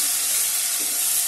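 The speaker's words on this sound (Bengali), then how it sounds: "এখানে পেঁয়াজটা আমি দিয়ে একটু ভাজা ভাজা করে নিয়েছি" Onions sizzling in hot oil for a Bengali aar fish kaliya, a steady close broadband hiss that holds evenly throughout the short stretch, with no talking.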